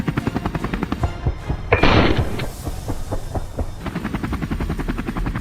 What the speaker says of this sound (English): The helicopter swiftly maneuvers to close in on the prey